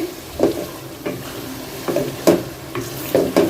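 Cardamom and spices sautéing in a pan, a steady close sizzle with several short stirring scrapes at intervals and no talking.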